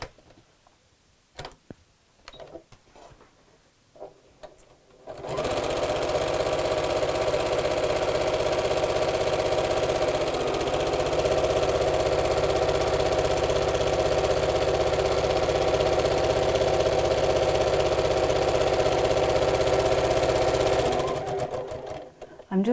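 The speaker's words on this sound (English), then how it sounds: "Then we'll sew straight across the bottom." A domestic sewing machine runs steadily for about sixteen seconds, stitching straight across the bottom of a fabric sewing-machine dust cover, a continuous close whir that starts and stops abruptly after some quiet handling noises.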